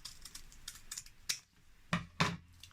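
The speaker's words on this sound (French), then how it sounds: "Et ensuite, je prends mes ciseaux" Scissors snip through paper to cut out a flower shape for a craft crown, giving a few quiet, crisp clicks followed by two louder snips near the end, with no talk.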